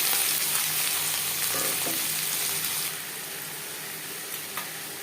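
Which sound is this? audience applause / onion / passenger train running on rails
onion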